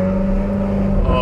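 Ferrari with an F1-style aftermarket exhaust, valves open, holding a loud, deep, steady engine drone in first gear, with a voice over it.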